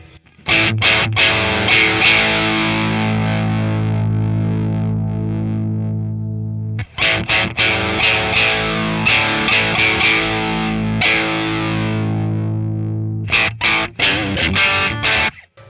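Electric guitar played through a Fender Hammertone distortion pedal, loud saturated chords ringing out in long sustained bursts with brief gaps between strums, no voices.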